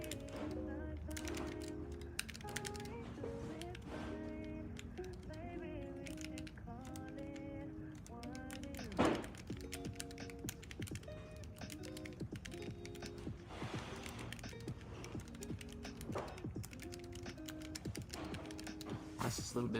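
Typing on a mechanical keyboard for a sound test: a steady run of soft, quick key clicks and clacks close to the mic, with a tonal background bed underneath.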